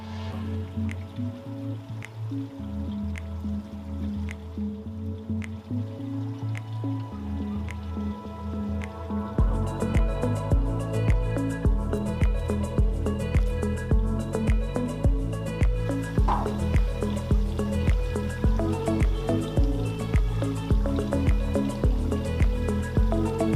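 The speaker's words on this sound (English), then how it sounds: "let's water those containers in now" Water is poured into perennial flower containers outdoors, making a steady splashing, dripping stream. A soft pulsing rhythm runs throughout, and the flow grows fuller and louder partway through.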